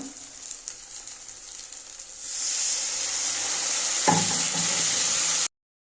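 Water is poured into a pan of frying spice paste for an egg and potato curry, and a quiet cooking hiss swells into loud, steady sizzling with a clatter partway through, then cuts off.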